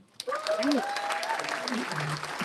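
Audience applause welcoming a speaker at a clean steel town hall in Gary, Indiana: a steady, dense burst of clapping from a sizable crowd that fills the whole moment, with a voice speaking over it.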